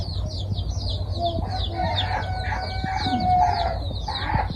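Many 32-day-old chickens cluck and chirp busily together, a lively overlapping chorus of short calls close by over a low hum.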